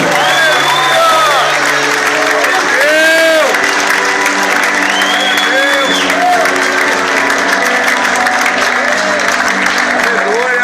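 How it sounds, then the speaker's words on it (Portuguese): A church congregation applauds loudly and steadily, with cheers and whoops mixed in, while a voice speaks over the clapping. "Aplauda mais forte ao Senhor, porque Ele é poderoso"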